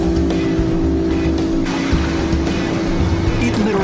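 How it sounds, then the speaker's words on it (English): Two outboard engines of equal horsepower, an Evinrude E-TEC and a Yamaha, run hard together on the water, producing a loud, steady, continuous engine roar with no pauses. "Here are two engines with the same horsepower, but look at the difference E-TEC's tremendous torque makes."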